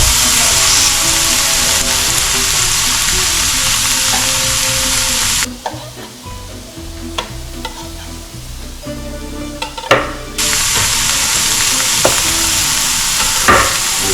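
A homemade burger patty sizzles loudly on a grill, a steady frying hiss that drops away for several seconds midway, leaving quieter clinks and scrapes, before the full sizzle returns.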